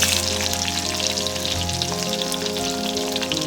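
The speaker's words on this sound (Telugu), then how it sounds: "ఆయిల్ వేసుకుందాం ఫ్రై కదండి కొంచెం కరివేపాకు వేస్తే బాగుంటుంది ఫస్ట్ అయితే ఉల్లిపాయలు వేసుకుందాం" Onions and curry leaves frying in hot oil, a dense, loud, continuous sizzle with a low steady hum beneath and no speech.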